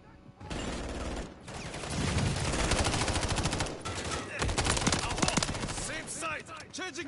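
Rapid gunfire from Call of Duty MW3 multiplayer fills the scene: loud, sustained automatic bursts with overlapping shots and brief pauses, continuing nearly nonstop from start to finish.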